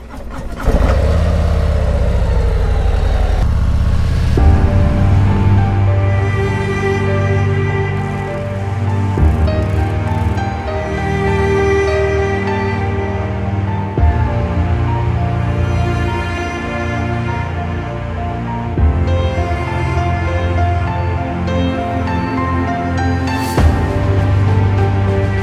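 A 2022 Harley-Davidson CVO Street Glide with about 5,800 miles cranks over and fires, then settles into a loud, steady, close-up V-twin idle with a brief rev near the end.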